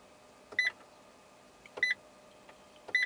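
Seatbelt warning buzzer inside a Fiat Doblo Panorama 1.6 Multijet, three short double beeps spaced about a second apart, clear and close against a quiet cabin background.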